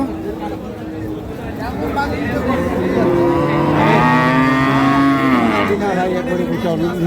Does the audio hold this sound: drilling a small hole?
no